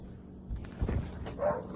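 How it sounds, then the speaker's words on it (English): A neighbour's dog barks a few muffled times from a distance, heard faintly through the walls of a quiet indoor room with low background hum. "Sorry if you hear the neighbor's dog barking."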